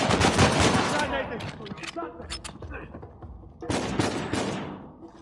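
Gunfire in Uncharted 4 as an enemy wields a shotgun, with dense bursts of shots and clattering action, a lull in the middle and then another loud burst; a voice talks intermittently over the fighting.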